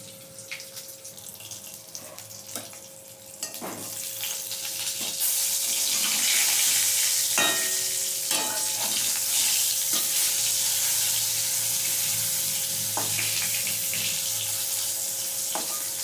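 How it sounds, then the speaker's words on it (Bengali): Eggplant pieces frying in oil in a wok, a steady bright sizzle that swells and holds loud, with occasional clinks and scrapes of stirring and no talk. "লাল লাল করে বেগুনগুলো ভেজে নেব"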